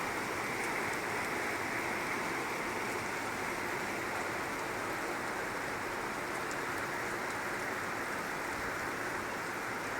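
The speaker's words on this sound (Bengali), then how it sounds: "হঠাৎ করে জোরে বৃষ্টি এসে গেছে কি বড় বড় ফোটা পড়ছে দেখুন" Steady, dense downpour hisses without a break, a heavy rain with big, thick drops pattering continuously close by for the whole stretch, with no thunder.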